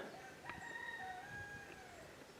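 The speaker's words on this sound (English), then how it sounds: "the cock's crowing" A rooster crows once at sunrise, a drawn-out cock-a-doodle-doo heard at moderate distance over quiet outdoor background.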